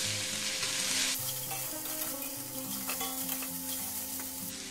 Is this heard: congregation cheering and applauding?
no